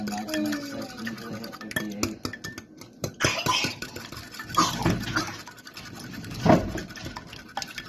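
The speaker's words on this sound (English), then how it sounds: "Whisk up the eggs." Eggs being whisked in a bowl at home while making dinner, a scratchy irregular clatter of whisk strokes with scattered knocks against the bowl, close by and moderately loud, with no one talking.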